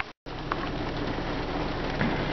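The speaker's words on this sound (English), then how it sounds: "Well, it's raining pretty good now" Steady rain pattering down, a dense hiss of drops on surfaces that continues without pause after a brief cut at the start.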